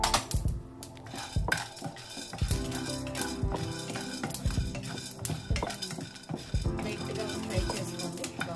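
Cumin seeds and chana dal frying in a hot pan while a utensil stirs and scrapes, making repeated clinks and clatters against the metal over a soft sizzle, close and fairly quiet.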